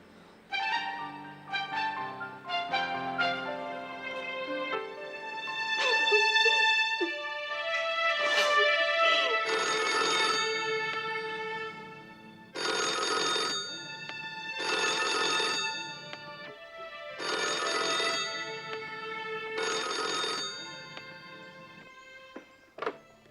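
A telephone bell rings on and off in repeated bursts, loud and close, going unanswered for a long stretch, with a musical lead-in at the start and no talking.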